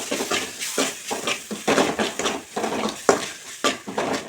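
Crab fry curry being stirred with spices in a pan, a rhythmic series of close spoon scrapes and clinks against the metal about every half second over a light sizzle, no talk.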